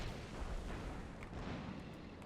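Airburst artillery fire in the Company of Heroes 2 video game sounds as a rolling barrage of booming blasts and crackling bursts, heavy and continuous, with sharp pops scattered over a deep rumble.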